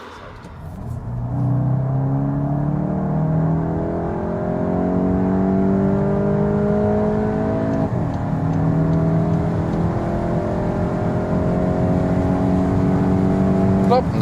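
A Volkswagen Golf 8 GTI accelerating hard at speed, its engine note climbing steadily through the gears with a brief dip at a shift, loud and continuous over road and wind rumble from inside the car.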